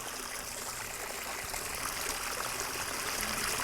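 Water spilling over the rocks of a koi pond waterfall, a steady, close rushing and trickling flow with no break.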